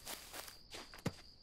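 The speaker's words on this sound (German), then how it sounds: "Man hört so Schritte neben sich und man hört Schritte verzögert" Ghost footsteps in the survival game No One Survived: several soft, evenly spaced steps shuffle nearby at a low level, ending in one heavier, closer thud.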